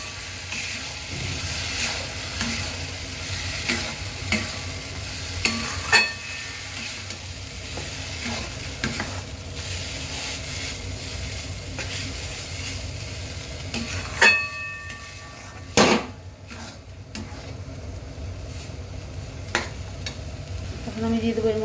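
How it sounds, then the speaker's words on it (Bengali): Food fries steadily in a pan while a utensil stirs it, producing a continuous nearby sizzle with periodic scrapes and a few sharp knocks against the pan, and no voices. "ভালোভাবে নাড়াচাড়া করব"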